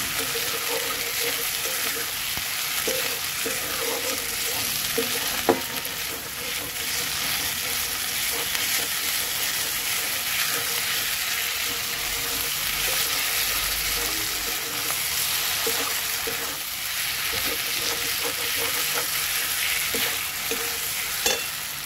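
Fried potatoes cook with ground spice paste in a pan, a continuous soft sizzle with intermittent spoon scrapes and a couple of sharper clinks as the mixture is stirred.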